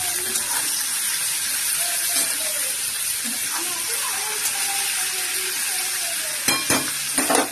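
Chopped ridge gourd goes into potatoes frying in a pan, with a steady, loud close sizzle throughout and a few sharper clattering bursts near the end, while a faint voice murmurs underneath.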